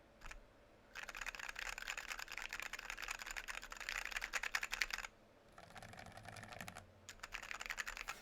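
Fast typing on a KBDFans KBD67 MKII mechanical keyboard, close and crisp clacking in sustained bursts separated by two short pauses, with no speech.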